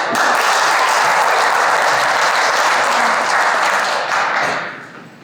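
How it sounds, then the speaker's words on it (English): Sustained, loud applause from a conference audience in a hall, dense clapping that fills the space for several seconds before tapering off at the end. "We have a round of applause."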